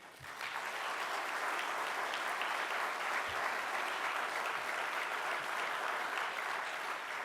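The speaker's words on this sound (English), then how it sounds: "Just a round of applause to the team." An audience at a global product launch event applauds the team, a steady dense wash of clapping that holds at even loudness for several seconds with no talk over it.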